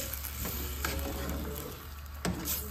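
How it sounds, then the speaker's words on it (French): Tunisian tajine meat stirred in a pot with water, a steady bubbling sizzle running under the whole stretch, with a few louder scraping knocks of the utensil against the pot near the start and toward the end. "Donc voilà, on remue."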